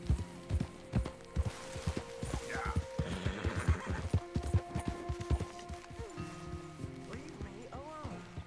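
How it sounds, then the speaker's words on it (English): A horse in Red Dead Redemption 2 clip-clops along with steady hoofbeats and gives a whinny partway through, while someone talks over the sounds. "Come on, horse."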